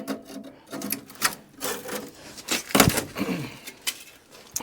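Old car flooring being peeled apart by hand gives irregular dry tearing and crackling bursts, close and fairly loud, with short pauses between pulls.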